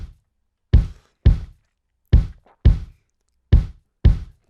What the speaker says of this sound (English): So I have picked a real acoustic kick drum,